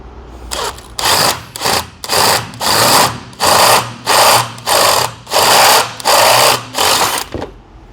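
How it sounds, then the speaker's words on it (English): A power drill opens a hole out to 5/8 inch in repeated short bursts, about ten whirring pulses with brief pauses between them, close and moderately loud with no talking. "we'll continue to open up the remainder of the hole to the 5/8 inch, trying to keep the drill straight up and down as possible"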